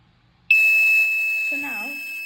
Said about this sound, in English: the buzzer is ringing